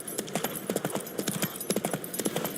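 Roach, the horse in The Witcher 3, gallops with rapid, rhythmic clip-clop hoofbeats, close and steady throughout.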